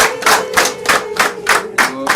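Guests at a civil wedding ceremony clap together in a steady, rhythmic beat, loud and close, about three claps per second. A sustained voiced tone runs underneath the bursts.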